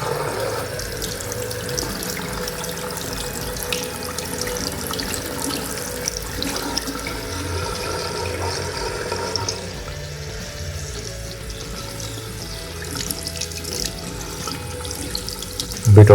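Tap water runs steadily over a Realme Note 60 phone, a continuous close hiss of splashing that shifts slightly in tone midway as the stream hits different parts of the handset.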